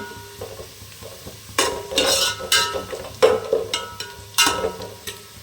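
Onions frying in a pan until brown for chicken biryani, heard as several loud bursts of stirring and scraping over a soft, steady sizzle.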